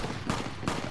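Two sharp gunshots a fraction of a second apart ring out from the video game Fallout New Vegas, loud and close, with a brief noisy tail after each.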